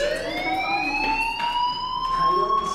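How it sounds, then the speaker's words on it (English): A fire alarm blares in the video game Life Is Strange, a loud, steady electronic wail with sustained rising tones running through the whole stretch, with no talk over it. "do you hear that fire alarm?"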